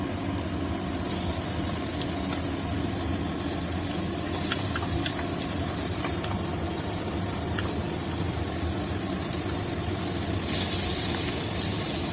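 Ginger paste hitting hot oil in a pan for chicken butter masala, a loud continuous close sizzle and hiss that swells briefly near the end, with no talk.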